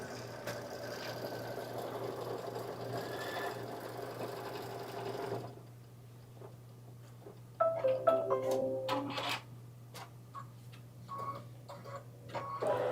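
An embroidery machine stitching an inner heart design, giving a steady mechanical hum that pauses and then starts again with rapid ticking needle strikes and shifting whirs, close by and without speech.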